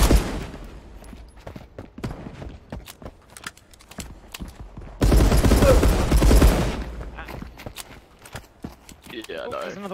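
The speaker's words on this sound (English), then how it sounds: "Who's shooting?" Video game gunfire in Marauders: sporadic shots crack through players chatting and reacting, followed by a dense burst of rapid automatic fire lasting a couple of seconds, then more scattered noise.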